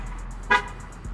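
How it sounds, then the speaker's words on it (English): A single short car horn chirp sounds once as a car is locked, brief and fairly close, against a quiet background. "I gotta lock the whip."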